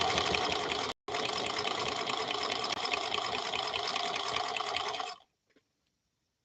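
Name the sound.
Centennial Featherweight sewing machine test stitching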